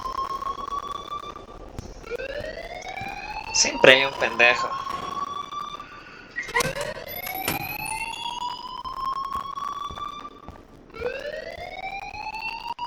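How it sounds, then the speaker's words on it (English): Fire alarm ringing in Life is Strange, repeated rising electronic siren sweeps with harmonic tones, fairly loud and persistent, with someone speaking Spanish over it partway through. "please turn off that alarm"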